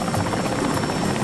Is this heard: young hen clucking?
no